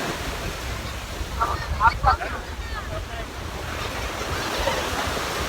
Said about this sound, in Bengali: কি বড় বড় ঢেউ দেখেন